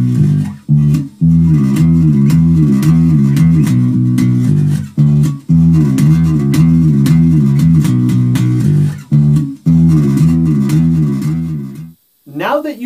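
An electric bass plays a riff in a lesson, loud repeating low note patterns with brief pauses between phrases and a sliding note at the end.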